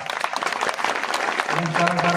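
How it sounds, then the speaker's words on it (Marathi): Dense applause from an audience at a devotional kirtan performance fills the clip, a steady wash of clapping with a low tone joining in near the end. "एकदा प्रेमाने टाळ्या वाजवा"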